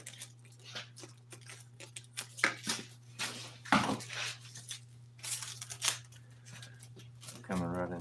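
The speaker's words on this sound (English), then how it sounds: "So I'm gonna cut some of this off." Scissors cut fabric for a 1955 Chevy front seat cover in a series of close snips and rustles over a steady electrical hum. A person talks in between the cuts.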